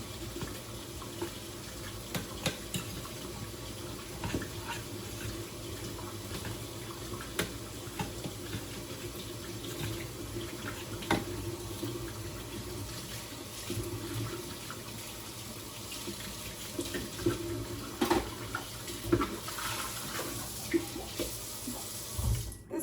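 A kitchen tap runs steadily for over twenty seconds, pouring water to thin a Caesar dressing, with a constant close rush of flow that rises and dips slightly in strength.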